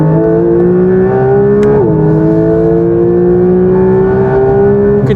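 Porsche GT3 fitted with a titanium IPE exhaust and a retained particulate filter drones loudly and steadily with a smooth, rising engine tone and a brief gear-change dip, close and continuous with no talk.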